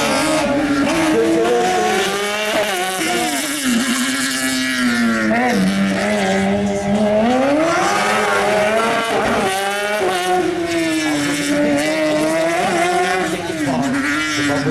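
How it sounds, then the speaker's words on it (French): A Suzuki-engined speed car races through a slalom course, its engine loud and close, revving up and down in sweeping pitch changes as it works through the gates while a commentator talks over it. "un speed car propulsé également par un moteur Suzuki"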